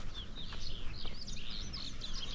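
Birds chirp and twitter in the morning outdoors at a terrace overlooking Khanpur Dam, a steady stream of faint, high calls set against a soft breeze with no talking.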